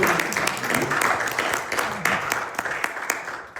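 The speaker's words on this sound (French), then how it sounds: "Est-ce qu'on peut applaudir pour ça quand même?" A congregation applauds in a French-speaking church service, with a dense, steady wash of clapping that carries on throughout and some background voices.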